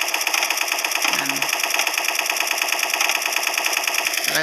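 Rapid bursts of rifle fire from the Special Force 2 shooter game rattle on almost continuously at close range, loud and sharp throughout, with no speech.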